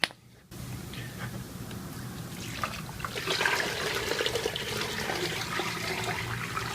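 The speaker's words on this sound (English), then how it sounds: "there's really not much coming out. It's just a little trickle" A small trickle of water drains out weakly after a brief quiet moment. It runs as a steady thin splashing flow that swells slightly midway.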